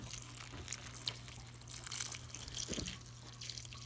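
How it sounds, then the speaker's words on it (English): Water flows from a small rubber hose used to water chestnut trees in an orchard, a faint steady hiss with soft splashing and dripping against a low background hum. "you can see pretty good pressure coming out of this little rubber hose"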